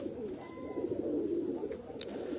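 Pigeons at a breeder's loft in Faisalabad, soft low cooing rolling on continuously, close and fairly quiet, with a faint chirp near the end.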